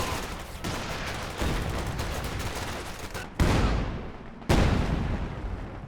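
A continuous artillery barrage in the strategy game Company of Heroes 2, with dense rumbling fire throughout and two sharp, loud shell impacts landing in the second half.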